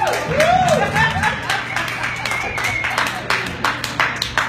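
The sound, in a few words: nightclub audience clapping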